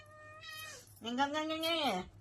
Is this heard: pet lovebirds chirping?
no